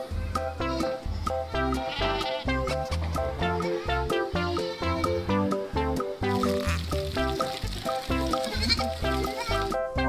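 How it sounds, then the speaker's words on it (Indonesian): A goat bleats in a series of repeated, wavering cries with short pauses between them. The bleats are moderately loud and sit over a faint background hiss. "Wow, ini kambing teman-teman."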